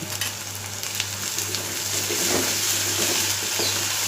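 Steady, loud sizzling of ginger garlic paste sautéing in a hot pan, with occasional soft clinks of stirring and a low hum underneath.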